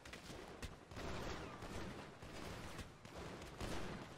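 Continuous gunfire in the game GTA during a team firefight, dense overlapping shots with bursts through the whole stretch, quiet and somewhat distant in the mix.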